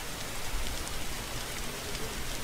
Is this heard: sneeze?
no